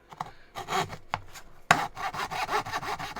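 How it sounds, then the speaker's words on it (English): A Japanese hand saw cuts through cheap plywood in several separate bursts of rasping strokes, close and fairly loud, with a sharper run of quick back-and-forth strokes in the second half. "But even with that stuff, I can cut it,"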